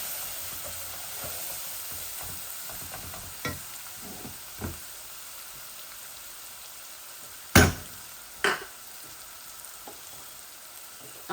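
Onions and curry powder sizzle and fry steadily in a pan, a soft continuous hiss with occasional clinks and scrapes of stirring, including two sharper knocks, close by with no talking.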